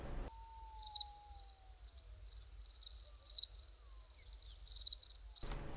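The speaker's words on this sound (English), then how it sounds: "Exactly. Crickets." Crickets chirping as a sound effect, a dense, continuous high trill pulsing in quick rhythmic bursts, heard alone with no voices.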